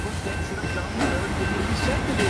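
A BNSF freight train rolls past on a siding in Schriever, Louisiana, with a steady loud rumble, hiss and clatter of wheels, plus a thin high metallic squeal running through it.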